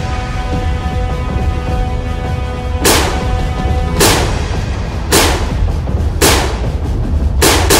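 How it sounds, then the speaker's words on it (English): Foam darts fired from a Nerf blaster during a backyard Nerf battle, five sharp snapping shots spaced about a second apart over a steady background hum, fairly close. "Then who's doing all the shooting?"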